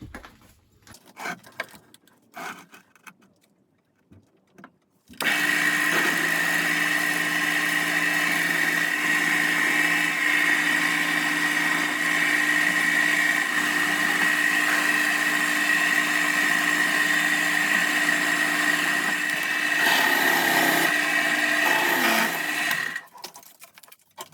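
A steady, loud mechanical drone of a 12.5 mm drill boring holes in metal for a lathe chuck backplate, running continuously with a high whine, starting abruptly after some quieter clatter and cutting off near the end.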